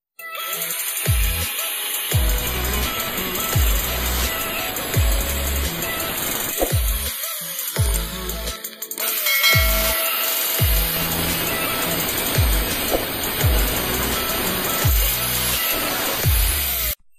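A power tool cuts the teeth off a steel motorbike sprocket being made into an axe, giving a loud, close, harsh whine broken by repeated short pauses and bursts as the blade bites and lifts.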